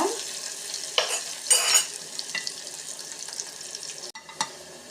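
Onions frying in a pan for pea kurma, a steady soft sizzle with occasional louder stirring scrapes and spoon clinks, no talking.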